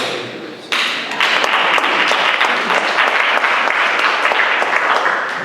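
A crowd at a town meeting breaks into steady applause that starts abruptly and holds at full strength, dense clapping filling the room without pause.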